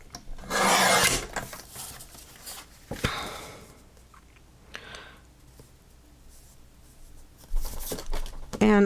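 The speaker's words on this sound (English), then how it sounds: "I need to trim that rough edge off first." Rough rasping and scraping as a rough edge is trimmed off a craft piece, with two strong bursts of cutting and quieter handling clicks between them.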